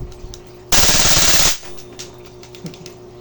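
Tokyo Marui MWS airsoft rifle, a BCM 14.5 build, fires one loud, dense full-auto burst of just under a second, close by, with quiet room sound before and after.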